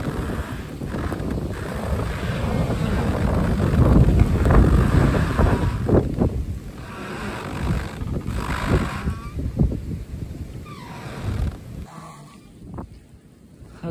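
Blizzard wind from Winter Storm Bobby roars steadily and loud, with broadband gusts swelling and fading over the whole stretch and faint creaks of trees under strain, then dropping away near the end.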